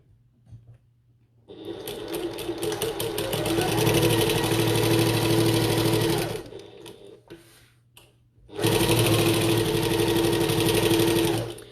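A sewing machine stitching a bucket tote bag runs in two loud, close bursts of rapid, even needle chatter, the first lasting about five seconds, then a brief pause before a second run.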